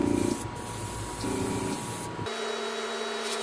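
An airbrush sprays a coat of Gaianotes metallic paint, giving a close, steady hiss with short pauses and shifts in pressure and no talking.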